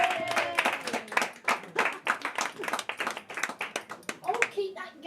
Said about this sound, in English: Put your hands together. Welcome to the stage, Sara Mason, ladies and gentlemen.